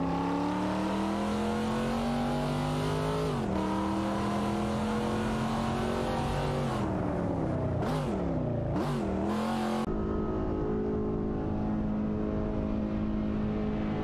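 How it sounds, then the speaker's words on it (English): Race cars, a Ferrari Portofino among them, battle in an AI racing video game. Engine whine climbs steadily, dips sharply on gear changes and swoops as cars pass, loud and continuous with no voices. "The battle for 11th place intensifies between Aetion 1792 and Super Lacroix and Duff Dad in the Ferrari Portofino"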